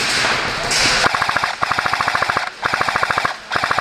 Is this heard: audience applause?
no